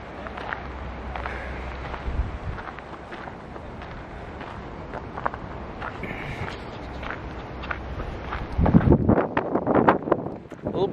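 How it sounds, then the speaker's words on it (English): Gusty wind buffeting the microphone on a cold mountain trail near the trailhead, a steady rumbling roar that swells louder near the end, with faint footsteps beneath it. "A little breezy today."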